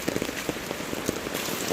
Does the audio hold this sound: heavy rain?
yes